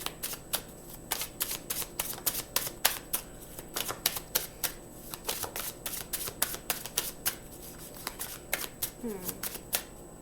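Tarot cards are shuffled and drawn close up in quick riffles and crisp flicks, with a soft voice speaking intermittently over them.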